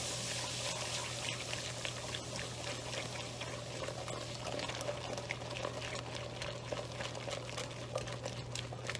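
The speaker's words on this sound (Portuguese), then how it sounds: "vou colocar 1 xícara de leite quente, quase fervendo" A steady, continuous pour of nearly boiling hot milk into a pan, with a faint bubbling fizz and a low hum underneath, lasting several seconds without pause.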